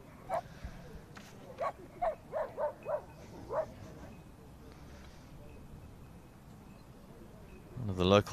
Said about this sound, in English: One of the local dogs.